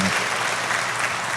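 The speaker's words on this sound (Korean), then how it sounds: "박수 한번 하겠습니다." A church congregation at an early-morning prayer service clapping for a child, a brief burst of dense, even applause from many hands.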